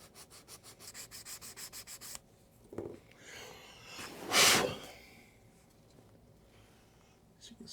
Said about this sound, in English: get to work with the sandpaper or the sanding stick